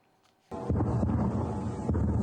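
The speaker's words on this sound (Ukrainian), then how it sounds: "місцеві жителі чули кулеметні черги та вибухи" Explosions and gunfire during a night drone attack on the city of Kursk arrive as a sudden dense, rumbling roar that holds steady at a distance after a quiet start.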